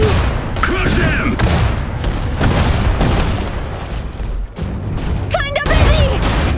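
Battle gunfire in the Iron Harvest game, a loud, dense stretch of shots and booms under constant low rumble, with brief voice-like chirps and in-game chatter mixed in.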